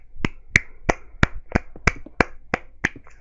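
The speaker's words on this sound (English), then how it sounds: "let me stop clapping" Ten sharp, evenly spaced claps ring out alone in a quiet room, crisp and close with a steady rhythm.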